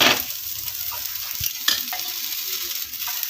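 A dosa cooks with oil on a hot pan. Bright, steady sizzling runs throughout, broken by a few soft scraping and tapping sounds from the utensil, close and without voices.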